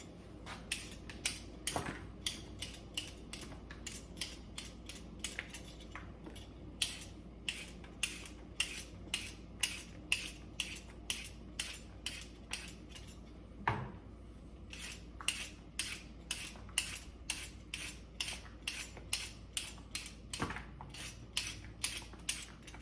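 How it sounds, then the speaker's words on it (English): Ingredients for Jamaican-style chicken soup being cut up on a board, quiet and close, with a long run of crisp knife taps, small clicks and occasional duller thuds in an uneven rhythm. "So I will get this all peeled and cut up"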